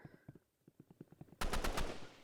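Gunfire in a Roblox shooting game: after a run of light, evenly spaced clicks, a loud close burst of rapid automatic shots breaks out for about a second.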